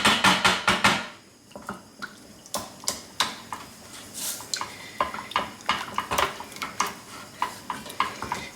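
Spoon stirring melting ingredients in a pan for low carb cauliflower cheese, rhythmic scraping and clinking strokes against the metal, steady and close with a faint sizzle underneath, no voices.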